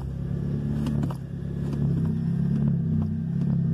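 A Nissan Sentra engine with a fault that keeps it from accelerating idles with a steady low rumble, rising a little as the throttle is pressed, with light clicks over the drone.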